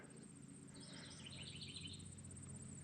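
A rescued bird calls in short chirping bursts near the middle, while its mate answers faintly from farther back over a steady insect-like background hiss.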